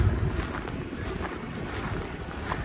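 Wind gusts outdoors among autumn-blooming cherry trees in Toyota, Japan. It makes a steady rushing, buffeting roar against the microphone, with no voices.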